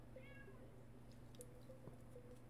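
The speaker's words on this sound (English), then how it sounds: "I can hear my cat whining to come in here." A pet cat whines and meows faintly from a distance, a few short thin cries over a steady low background hum, with no talking.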